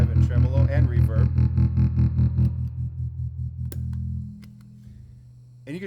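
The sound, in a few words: guitar through Peavey F-800G amp, overdrive, tremolo, reverb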